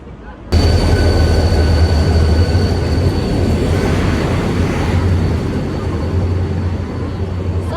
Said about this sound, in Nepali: सबिनाको ट्रेन आयो